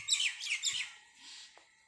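Small birds chirp quietly at a feeding spot, with a quick cluster of high tweets early on that fades to near silence.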